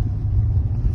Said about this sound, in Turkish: Motorun sesini.